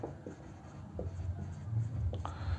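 Numbers are written by hand during a maths lesson on number systems, giving quiet scratchy strokes in short bursts over a low steady hum, with no talking.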